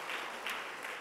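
A congregation applauding during a church service, a dense wash of clapping that swells in brief pulses, fairly faint and alone.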